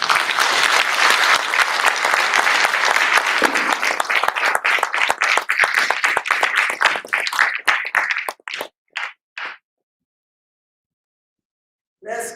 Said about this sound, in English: Let's give a big round of applause to our presenter